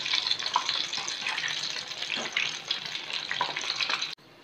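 Paneer 65, masala-coated pieces of paneer, sizzles and crackles steadily in hot oil in a pan over medium flame, a close, continuous frying hiss with faint stirring, stopping abruptly near the end.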